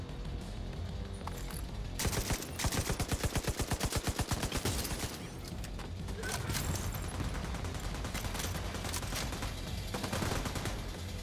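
Heavy gunfire from The Division 2 shooter game, a dense rattle of automatic bursts with a rapid, evenly spaced volley in the middle, loud and continuous throughout with no talking.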